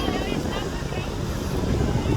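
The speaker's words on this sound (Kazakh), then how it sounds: "Өте салқын жел ұрып тұр қазір негізі" Cold wind blows hard along the Pacific shore, a continuous broadband rush buffeting the microphone, with a low roar of surf mixed beneath it at steady strength.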